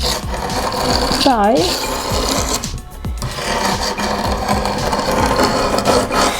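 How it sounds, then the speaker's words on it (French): A large flat cutter scrapes steadily across cured epoxy grout joints in repeated rasping strokes, close and loud, with a brief pause midway; someone says a word in French. "Maintenant, on va tout bêtement gratter nos joints. Ah, c'est le grand cutter plat."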